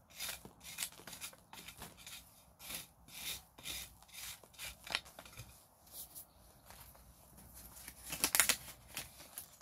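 A small seed drill is scraped into garden soil by hand, giving soft intermittent rubbing and rasping scrapes in irregular strokes, close and fairly quiet, with no talking.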